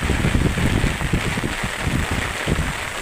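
Heavy typhoon rain from Typhoon Kristine pours down in Masbate as a dense, continuous roar of water with constant low rumbling and no breaks.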